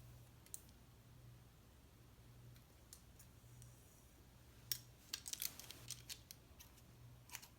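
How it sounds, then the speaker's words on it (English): Scissors point cutting the ends of a sew-in bob hairstyle, giving a quick cluster of crisp, close snipping clicks over a steady low background hum, with a few isolated snips earlier. "Then I'm just gonna comb it and go in with my scissors and point cut."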